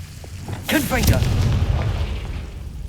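Confringo, the explosive fire spell in Hogwarts Legacy, goes off as a sudden close boom with crackling bursts, then settles into a rolling rumble that fades slowly. A brief voice overlaps the blast.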